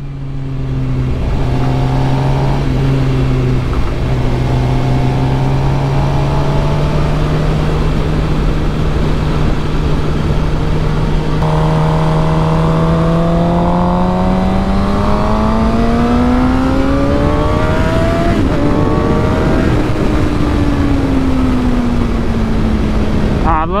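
A Suzuki GSX-R 750 motorcycle accelerates loudly during a group ride on a winding road, its engine pitch climbing steadily in long sweeping rises and then dropping back. Wind rush blends in, and faint talk may sit underneath.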